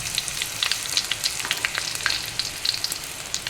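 Chilli pieces frying in hot oil with mustard seeds, a dense close sizzle crackling with rapid sharp pops and spits throughout, no voices.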